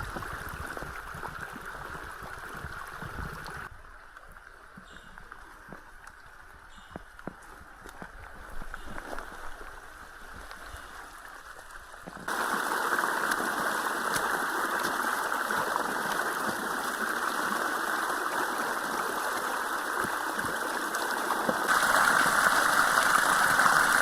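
A rushing mountain stream on an Australian Alps Walking Track hike after torrential overnight rain gives a steady broadband wash of water, softer at first, then louder and closer for the rest of the stretch.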